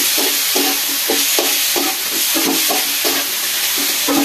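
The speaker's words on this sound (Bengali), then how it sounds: "মশলাটা আলুর সাথে মিশিয়ে দিলাম।" Spiced potatoes being stirred in a frying pan, a steady sizzle under repeated scraping strokes of the spoon roughly every half second, close and fairly loud.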